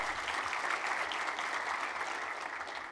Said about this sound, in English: So you keep clapping for me, but I haven't done anything yet.